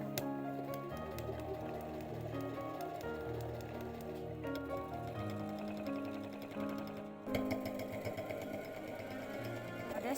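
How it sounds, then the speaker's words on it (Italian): A sewing machine runs steadily, stitching faux leather corset pieces and hemming a decorative panel, its fast mechanical whir continuous and close, with a brief pause and restart partway through and no talking. "Cucio la parte decorativa e faccio l'orlo prima di cucire il pezzo al resto del corsetto."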